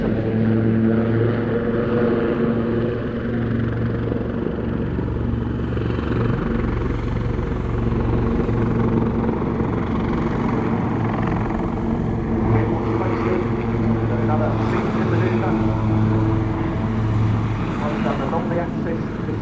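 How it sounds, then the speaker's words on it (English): Aircraft flying a display at the RAF Cosford Air Show, a loud continuous rotor-like engine drone with steady tonal hum, holding at close range throughout with only slight swells. "Aircraft transiting rearwards, and they're dipping their noses."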